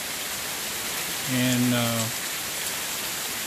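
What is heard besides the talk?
heavy rain falling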